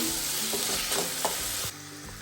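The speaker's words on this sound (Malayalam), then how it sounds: "വെളിച്ചെണ്ണ ഒഴിച്ച് കടുക് ഇട്ടൂട്ടാ അപ്പം സവോള ഇട്ടൂട്ടാ പിന്നെ തക്കാളി ഇട്ടു" Mustard seeds, onion and tomato fry in coconut oil in a pan, making a loud, dense sizzle with stirring scrapes that suddenly drops to a quieter hiss near the end.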